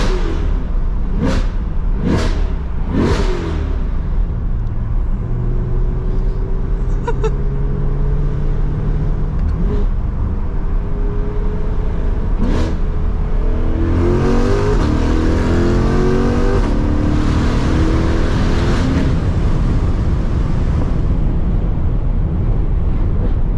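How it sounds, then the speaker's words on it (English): A Chevrolet C8 Corvette Stingray revs hard in neutral, several sharp throttle blips rising and falling in a loud, near, rowdy exhaust note, with steady road and cabin rumble beneath. "And if you pull both paddles it goes in the neutral and you can rev it."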